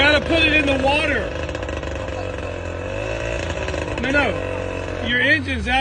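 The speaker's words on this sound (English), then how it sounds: "No, your engine's out of the water." An outboard boat engine revs hard while lifted out of the water, its pitch rising and falling in loud, uneven bursts across the whole stretch as voices talk over it.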